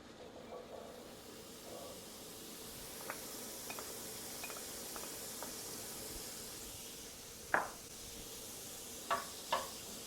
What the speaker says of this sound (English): I have a pan that I'm going to make my sauce in. In goes the pancetta.